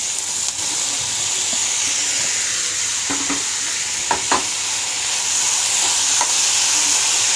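Onions and tomatoes sautéing in a hot pan for vendakkai pachadi, with a steady close sizzle and hiss throughout and a few brief clinks and scrapes of stirring; no talk.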